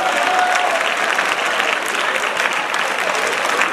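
Loud, dense applause from a conference audience in Sapri, continuous clapping from many hands filling the room at full level without letup.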